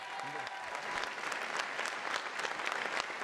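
A political rally audience breaks into steady, dense applause that fills the hall, with a brief voice at the start.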